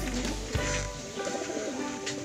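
Pigeons coo close by in low, rolling murmurs, a few soft repeated calls from a flock of seven racing birds back at the loft after training.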